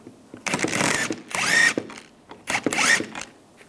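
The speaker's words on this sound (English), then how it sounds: "Using a 17mm socket, take the nut off." A power tool spins a 17mm socket to remove a rear shock absorber nut on a 2013-2016 Dodge Dart, heard as three close whirring bursts with short gaps.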